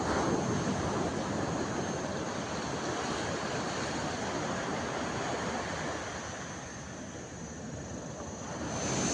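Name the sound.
strong sea waves at a beach in Krabi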